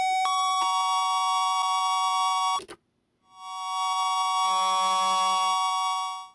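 A no-input mixing board produces steady, loud electronic feedback tones with rich harmonics, one pitch cutting off abruptly into brief silence before a new, layered drone swells back in and shifts with added lower tones.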